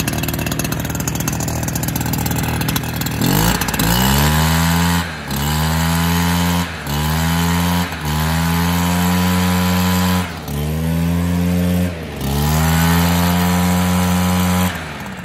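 A small two-stroke backpack leaf blower engine starts up and runs loudly nearby, its roar surging and dipping in repeated throttle bursts.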